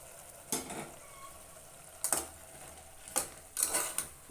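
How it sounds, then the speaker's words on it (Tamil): Mushrooms are stirred into masala in a pot for mushroom biryani: four distinct scraping strokes of a spoon against the pot over a faint sizzle, close and moderately loud. "இந்த மசாலாவோட மிக்ஸ் பண்ணுவோம்"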